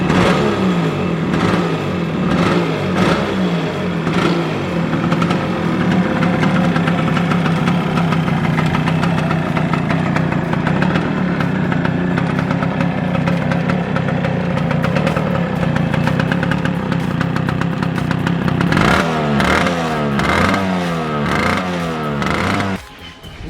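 A vintage Yamaha RX100 two-stroke motorcycle idles with a loud, close, burbling engine note, then blips its throttle in repeated quick revs near the end, with no talking.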